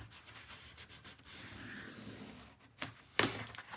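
Folded paper on a handmade mini album is burnished with soft, close rubbing strokes that build up, ending with a couple of sharper rasping swipes.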